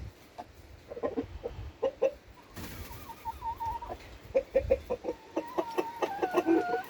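A red rooster clucks in short repeated bursts near a broody hen's nest, with soft cooing and murmuring chicken sounds and light rustling between the calls.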